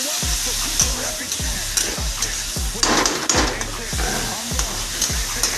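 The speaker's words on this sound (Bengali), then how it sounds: "এবার এটা যতক্ষণ লাল না হয়ে যাবে ততক্ষণ ভাজতে থাকবো।" Food frying in a pan until it turns reddish, ahead of adding chicken, with a steady sizzle broken by regular scraping stir strokes roughly twice a second; faint voice traces underneath.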